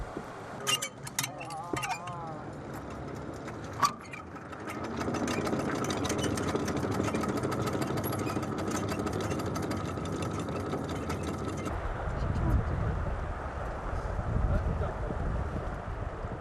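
A small ferry's boat motor runs steadily while crossing the Yellow River toward Nanchangtan, a continuous engine drone with wind buffeting the microphone and people talking over it.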